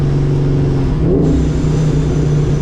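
A 1998 Mustang Cobra engine drones loudly and steadily after a downshift, with a brief dip and a deeper throaty swell partway through, then holds a rumbling rev.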